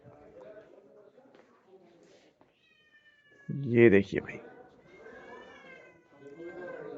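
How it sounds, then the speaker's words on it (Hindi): A cat lets out a loud meow midway, while someone talks quietly before and after it on the set of a TV drama. "बिल्ली भी पीछे से बोल रही है कब शूट शुरू होगा"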